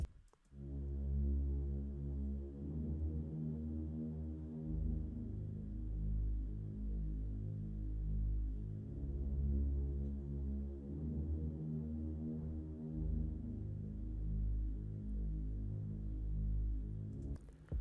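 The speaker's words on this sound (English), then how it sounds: "the preset we are using is the ambient pad 3 preset under the single layer pads category" A soft ambient synth pad from a Nexus single-layer preset, part of an Afrobeat-style beat remake. It holds long, warm sustained chords that swell and shift in slow, repeating cycles, fairly quiet with no voices.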